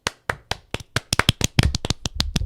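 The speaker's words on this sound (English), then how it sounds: "So, round of applause." A few people clap after watching a women's skateboarding team video, with sharp separate claps landing unevenly and speeding up toward the end, close and fairly loud.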